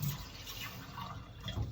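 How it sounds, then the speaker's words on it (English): Water splashes and trickles steadily as it is poured onto sugar in a pan for homemade browning, a close, continuous liquid rush with no voices. "I'm gonna add some water to this."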